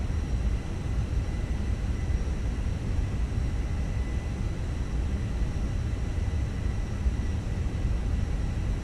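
Twin CFM jet engines on an aircraft held at 70% N1 thrust during a ground run, a steady broadband roar with a strong low rumble, continuous and unchanging throughout with no voices.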